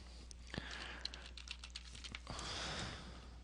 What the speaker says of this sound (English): type in my username and password